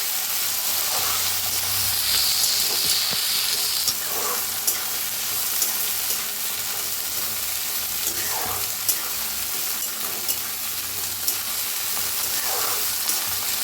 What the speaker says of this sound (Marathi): चांगली भाजून घ्यायची आहे गवारी